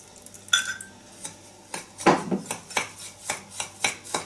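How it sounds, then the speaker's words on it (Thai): Spoon stirring melted salted butter into a cheesecake crumb base in a bowl, a series of close scraping and knocking strokes, roughly two per second, with no talking. "คนให้เข้าๆกันนะคะ"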